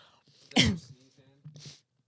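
A single sharp sneeze bursts out close by, followed by a brief vocal murmur and a quick breathy sound.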